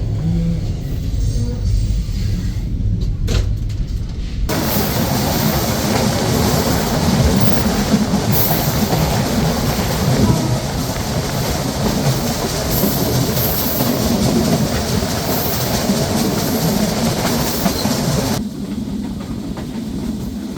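A Chitra Express train running, heard from inside an AC cabin corridor: a steady loud rumble and rattle of the moving carriages fills the whole stretch, with a brief quieter, clattering start, and no one speaks.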